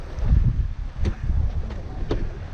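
A Bavaria 41 sailboat under sail in steady wind on flat seas at about 7 knots: a continuous low rush of wind and water, broken by a few faint, brief clicks and knocks.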